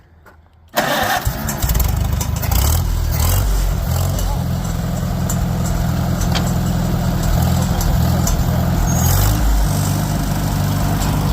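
A previously seized Farmall tractor engine cranks briefly, then catches and runs loudly and steadily up close with a rough, rumbling idle, while voices are heard.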